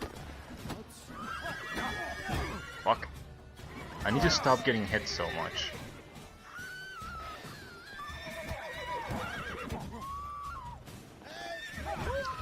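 Horses whinny and neigh repeatedly in The Witcher 3 video game, with hooves clip-clopping amid combat clatter, while a player talks over much of the action.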